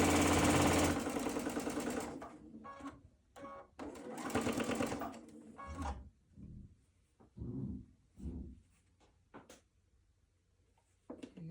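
A sewing machine stitches quilt fabric for a LeMoyne star block, running in short close bursts with a brief back stitch, pausing between runs amid handling noises.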